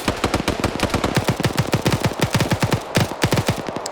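Rapid automatic gunfire in a competitive multiplayer shooter match, fast evenly spaced shots in long bursts with a brief pause near the end, loud and close with no talking.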